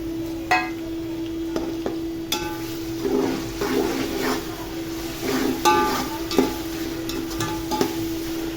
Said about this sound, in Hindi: टमाटर जाएंगे मेरे पास, छोटे छोटे मेरे पास 3 टमाटर थे, वो डाल दिए इसमें।